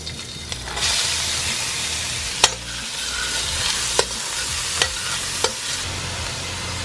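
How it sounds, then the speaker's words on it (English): Chopped onion sweats in cooking oil in a pan, a steady soft sizzle with occasional sharp clicks of a utensil against the pan. "Bit of cooking oil. Let's sweat the onion."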